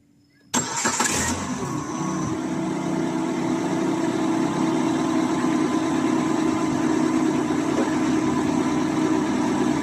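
A car engine cranks and catches after being jump-started from a portable power bank, then settles into a steady, close idle that runs without a break for the rest of the clip.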